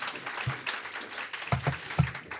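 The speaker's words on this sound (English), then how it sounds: "Round of applause." Scattered, fairly light applause comes from a modest audience at an industry forum on transport, with a few louder claps and low voice-like sounds breaking through.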